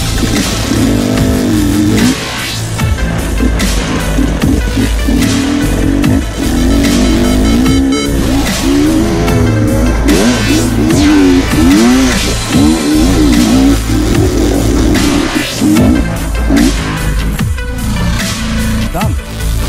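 A KTM SX105 dirt bike is ridden off-road, its small engine loud and close, revving and dropping continuously with rising and falling pitch and few pauses.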